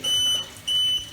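A SCADA system alarm buzzer sounding after a tripped feed pump: two steady, fairly loud electronic beeps, each about a third of a second long, with a short gap between them.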